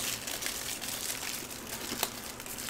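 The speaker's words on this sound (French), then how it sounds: "je suis désolé pour les bruits de papier" Paper crinkling while a Pokémon box is unboxed: a steady, close rustle of soft crackles with a few sharper crunches, continuous and alone throughout.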